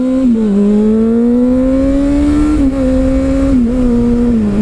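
A red-and-white 2012 Honda CBR600RR sport bike revs loudly and close up, its engine pitch climbing in steady sweeps with brief dips between throttle blips and no voices over it.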